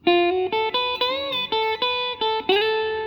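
An electric guitar plays a short phrase of sustained single notes in a steady rhythm, with a hammer-on and a smooth pitch bend partway through, and no talking.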